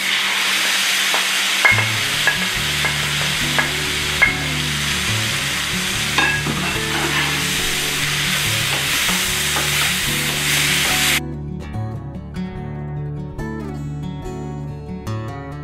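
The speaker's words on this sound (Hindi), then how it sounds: "अब हम इसमें टमाटर डालते हैं।" Tomatoes hit hot roasted spices in a pan while cooking Bhuni Arbi Masala, giving a loud steady sizzle with scraping stirs; the frying quiets noticeably near the end, with no talk.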